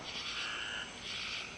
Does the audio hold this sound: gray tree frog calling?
yes